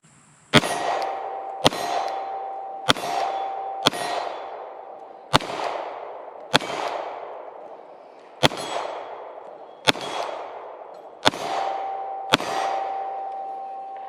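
A Glock 48 MOS pistol fires 124 grain NATO rounds in ten sharp, loud shots spaced about a second apart, each with a ringing metallic tail that fades before the next.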